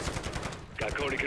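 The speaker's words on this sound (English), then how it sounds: "it's shooting at another sentry gun" Automatic sentry gun fire in the Modern Warfare 3 video game, rapid repeated gunshot bursts close and loud, mixed with game effects and a voice.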